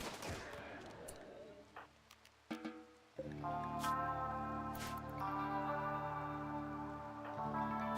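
Gunfire in RimWorld, a burst of sharp shots early on and a few scattered cracks afterward, then a sustained tonal droning hum taking over the rest, fairly faint overall.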